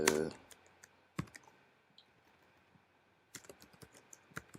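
Typing on a computer keyboard comes in short bursts of clicking keystrokes, close and quiet, with a pause in the middle before a final quick run of taps.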